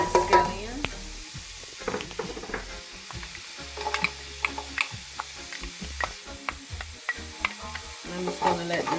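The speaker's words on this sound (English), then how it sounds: "in the same pot, I'm going to add my onions. And my scallion." Onions and scallion sizzle in a pot over low heat, a steady crackling fry broken by stirring clicks and scrapes, fairly close and moderately loud with no talk.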